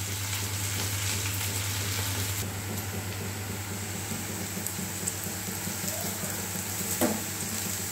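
Okra pieces frying in hot oil, a dense steady sizzle with scattered crackles and pops that runs the whole time, close and moderately quiet, with no voices.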